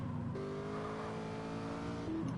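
An Alpha sports car in GTA San Andreas, styled on a mid-90s Dodge Stealth, gives a steady game engine drone with a rising tone through the gears and a brief tire squeal, loud and alone with no talk.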